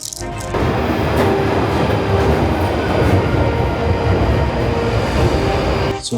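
A train runs from Stansted Airport to central London with a loud, steady rumble and rattle of carriages, heard without voices.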